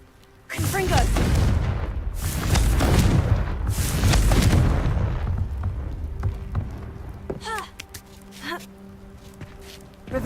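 A Confringo blasting curse in Hogwarts Legacy sets off loud, booming explosions. Several heavy blasts run together in the first few seconds, then fade into quieter crackling debris and a few sharp magical chimes.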